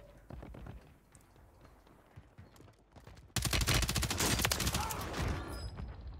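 Sustained automatic fire from a BAL 27 rifle in Warzone 3, a loud rapid burst that kicks in suddenly and rattles on for about three seconds after quieter footsteps and scattered distant shots.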